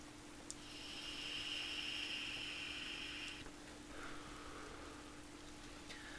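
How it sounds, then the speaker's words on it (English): Rain falls outdoors in The Last of Us as a steady, faint hiss of drops on surfaces, continuous and even, with a low hum underneath and no speech. "This rain ain't gonna do us any good."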